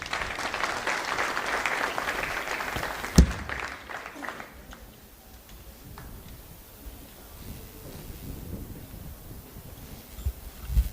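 An audience at a school parents meeting claps loudly and steadily for about three seconds. The applause then dies away into a quieter room with scattered faint knocks and shuffles.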